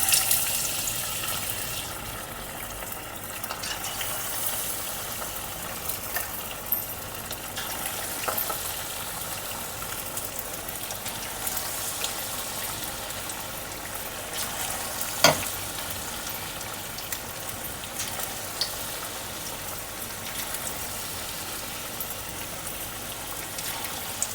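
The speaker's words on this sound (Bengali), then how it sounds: "ম্যারিনেট করা মাছগুলো আমি এক একটা করে ভাজার জন্য ছেড়ে দেবো" Marinated bhetki fish pieces fry steadily in hot oil, a continuous dense sizzle and crackle close by, with one brief sharper pop partway through.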